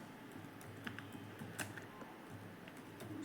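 Keys clatter on a computer keyboard as someone types purchase-entry notes into accounting software, a steady patter of faint, close clicks with occasional louder taps over a low hum.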